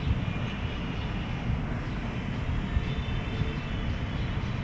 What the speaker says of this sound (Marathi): हे बघा मेट्रो येते